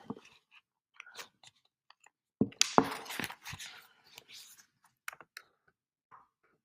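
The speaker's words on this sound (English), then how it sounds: "I'm typing it in real quick." Quick bursts of clicky keyboard typing, irregular and close, with pauses between flurries in an otherwise quiet room.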